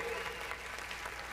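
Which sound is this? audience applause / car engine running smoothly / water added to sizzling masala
audience applause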